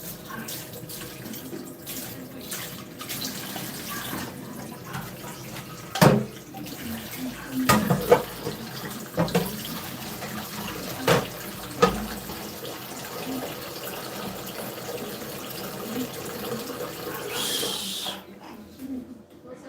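Water runs from a tap into used cooking pots in a sink, a continuous rushing flow with clattering knocks and bumps of pots, while people talk at times in the background before the flow stops near the end.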